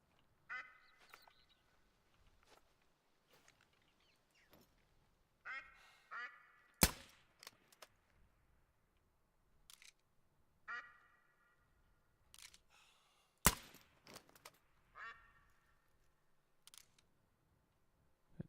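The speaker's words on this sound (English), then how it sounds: "About to start shooting ducks if they don't shut up." Ducks in theHunter: Call of the Wild, set in Scotland, quack in repeated bursts spread across the clip, moderately near against a quiet background, with two sharp gunshots cutting in.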